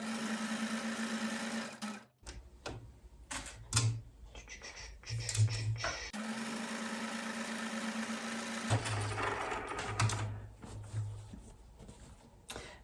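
A sewing machine runs a zigzag stitch through fabric while making textile tucks and folds, buzzing in short close runs separated by brief pauses.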